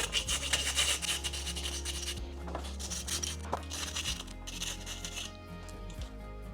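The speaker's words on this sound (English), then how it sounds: "And after a bit of filing" A metal part is filed down by hand with a file, producing steady rasping strokes that are close and moderately loud, with short pauses between passes.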